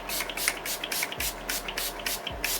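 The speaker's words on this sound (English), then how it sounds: "I'm going to use my Urban Decay All Nighter setting spray" Several quick hissing bursts of Urban Decay All Nighter setting spray mist in an uneven rhythm, close by, with soft handling noises between them.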